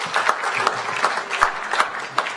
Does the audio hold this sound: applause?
yes